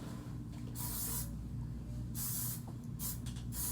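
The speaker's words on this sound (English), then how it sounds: "I'm using the REF Flexible Hold Hairspray. I'm just spraying" Several short bursts of REF Flexible Hold aerosol hairspray hissing out onto wavy hair, close by, with brief pauses between sprays.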